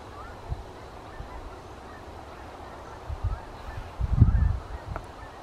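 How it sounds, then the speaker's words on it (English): Distant geese honk a few times against a quiet outdoor background at a cemetery in Tamaqua, Pennsylvania, with calls clustering and growing louder toward the end. "I'm hearing geese."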